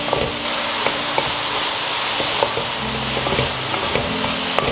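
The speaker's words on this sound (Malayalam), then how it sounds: "നമ്മുടെ സോയ ചങ്ക് നമുക്ക് ഇതിലേക്ക് ഇട്ട് കൊടുക്കാം. നന്നായിട്ടൊന്ന് ഇളക്കി യോജിപ്പിക്കാം." Soya chunks tossed into masala in a pan hiss and sizzle steadily, with scattered scrapes and taps of a stirring spoon over the close, continuous frying noise.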